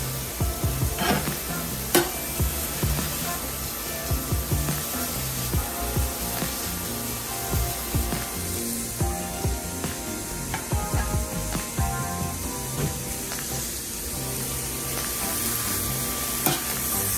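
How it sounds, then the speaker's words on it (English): Jerk burger patties sizzle steadily in a hot pan, a loud continuous frying hiss broken by repeated scraping and stirring knocks, with no talking. "now I'm going to grill it"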